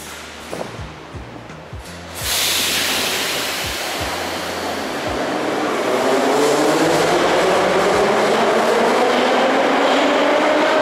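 During a train parade, a vintage Moscow metro EZh-3 train rushes past. A few low thumps come first, then a loud roaring wash of wheels and air builds and holds close by.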